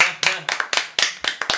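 Hand clapping in a radio-style show studio: about a dozen crisp, close claps at a brisk, slightly uneven pace, with faint voices underneath.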